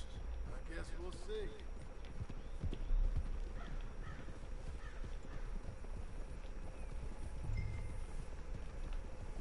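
Horses' hooves clip-clopping in the Red Dead Redemption 2 video game, a faint, steady rhythm of steps under a dense game ambience with a brief louder thump near the start.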